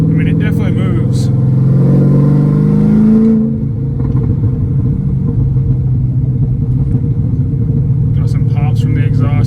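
Chevrolet Corvette Z06 exhaust heard from inside the car while accelerating in traffic: a loud, deep rising engine roar that drops off after a few seconds into a lower steady rumble, with someone talking over it.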